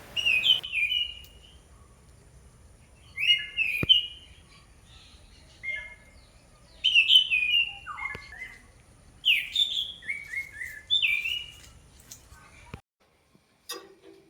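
Garden birds give short, bright chirps and whistled phrases in spaced bursts, close and clear against a quiet background, with a few faint ticks between calls.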